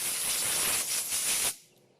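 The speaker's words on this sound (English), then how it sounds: "an air blower right on the nozzle, output nozzle on my air compressor hose" Compressed air blasts from an air blower nozzle on a compressor hose, a loud steady hiss lasting about a second and a half, then cutting off abruptly into quiet.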